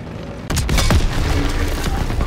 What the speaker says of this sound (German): So, Explosionen sind immer gut.